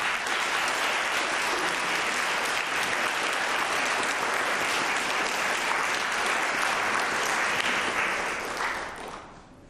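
An indoor audience at a vocal concert applauds continuously, a dense even roar of clapping that holds steady for several seconds and then tapers off at the end.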